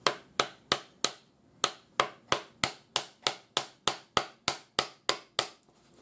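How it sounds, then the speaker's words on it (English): Rawhide mallet tapping a glued wooden joint to seat it, about seventeen sharp, close knocks in a steady rhythm with a short pause after the first few, each one ringing out briefly before the next. "I'm just going to hammer that in with my rawhide hammer."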